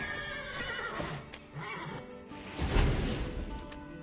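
In Witcher 3, agitated horses whinny loudly while hooves clop and stamp amid a busy game soundscape, with a heavy thump and crash of movement near the end.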